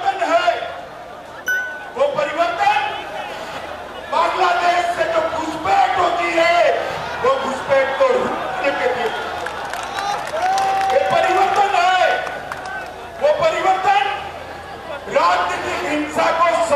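Large crowd gathered for Home Minister Amit Shah's road show in West Bengal, from Hanuman temple to Dak Bungalow: a continuous roar of many voices with cheering and shouting swelling in waves, loud and close throughout.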